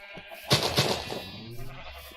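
Sheep in the Minecraft video game bleat twice in quick succession, clear and fairly close, followed by a softer trailing bleat against a quiet background.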